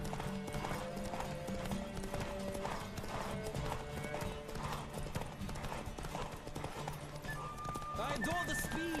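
A horse gallops in The Witcher 3 with a rapid, rhythmic clip-clop of hooves, mixed with a voice and tonal game sounds, plus a brief whinny near the end.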